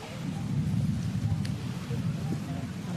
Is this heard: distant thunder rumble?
yes